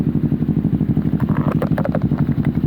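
A motorcycle fitted with a performance exhaust idles close by with a loud, lumpy, rhythmic exhaust burble that pulses steadily, with some mechanical clatter.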